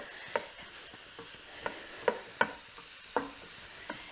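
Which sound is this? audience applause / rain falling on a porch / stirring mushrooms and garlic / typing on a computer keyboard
stirring mushrooms and garlic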